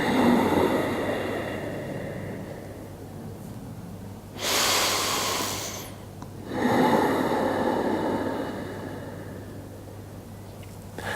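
Two long, hissing ujjayi-style yoga breaths drawn in through the nose with a constricted throat, each lasting more than a second, close and fairly loud over a quiet room hum.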